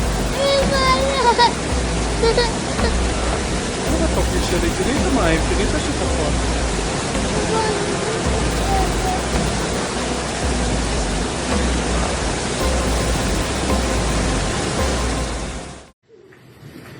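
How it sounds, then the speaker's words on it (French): A flash flood waterfall pours off a desert cliff in a dense, loud, continuous rushing roar of falling water that stays steady before cutting off near the end. "une falaise désertique se transformer en cascade lors d'une forte inondation"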